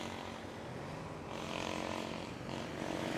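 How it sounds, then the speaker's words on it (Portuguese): A helicopter passes low overhead near a construction site in Belo Horizonte, a steady engine and rotor drone that swells slightly as it nears, with no voices. "Porque já vem um helicóptero aqui, vai passar bem onde eu estou aqui, ó."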